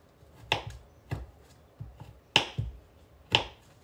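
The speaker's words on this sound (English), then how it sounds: "Let's get the rest of this Reese's cups here chopped." A knife chops Reese's peanut butter cups on a cutting board, about six crisp, separate knocks with uneven gaps between them, close by and with no talking.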